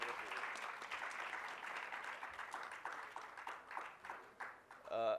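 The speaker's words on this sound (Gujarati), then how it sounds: "સો જોરદાર તાળીઓ" An audience at an author talk and felicitation ceremony gives a steady round of applause, fairly faint and sustained, fading slightly before a brief louder sound at the very end.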